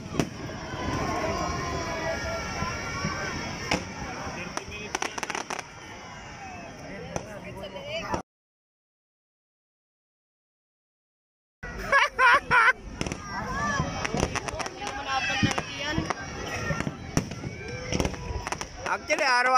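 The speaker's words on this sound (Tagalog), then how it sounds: "Actually, araw-araw yata merong fireworks dito pag December eh." Fireworks going off outside during December, a dense series of sharp cracks and pops with a crowd murmuring beneath, cut by a few seconds of silence before another burst of rapid loud bangs.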